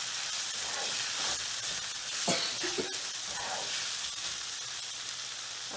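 Tomatoes, capsicum and green peas sauté in a pan for vegetable cheese pasta, giving a continuous hissing sizzle with a couple of sharp spatula knocks midway.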